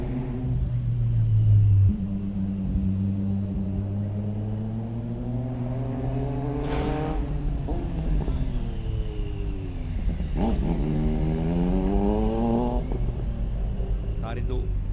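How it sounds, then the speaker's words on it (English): Kawasaki ER400 motorcycle racing up a hill climb course, its engine rising and falling in pitch as it passes, with a sharp rev swell near the middle and another later, heard under an announcer's talk over steady crowd-ground rumble. "In his Kawasaki ER400."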